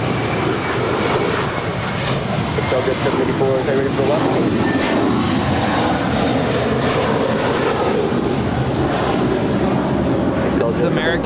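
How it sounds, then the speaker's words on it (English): An American Airlines A321 jet departs LAX with a loud, continuous engine roar that stays strong the whole time, with voices talking over it. "This is American 608 departing to Philly. It's an A321."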